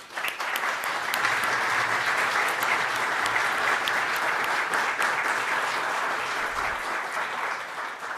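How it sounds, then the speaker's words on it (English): Steady, full applause fills a room at the Canada–Denmark announcement settling the Hans Island dispute in June 2022, a sustained wash of clapping from a sizable audience for the full stretch. "I think this is worth a round of applause because this is historic and important."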